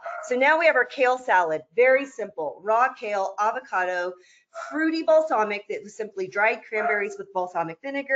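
A pet dog barks a few times in the background beneath continuous close-up speech from a person presenting food.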